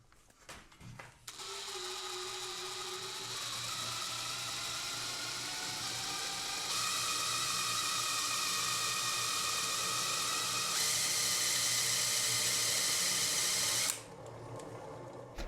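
A homemade 52-volt DIY generator spinning up to about 600 RPM, a steady mechanical whine and hum that climbs in pitch in stages, then cuts off near the end; no one speaks.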